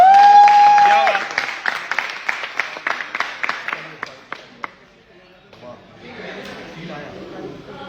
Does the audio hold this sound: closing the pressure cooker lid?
no